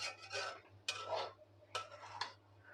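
A spatula stirs and scrapes fried potatoes in a pan in a few short, soft strokes, quiet and close, with a low steady hum beneath.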